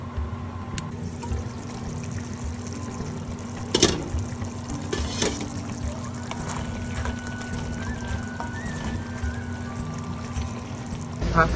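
Water pours from a cup into a cooking pot of simmering black chickpea masala curry: a steady, close trickling stream that runs for several seconds above a low kitchen hum.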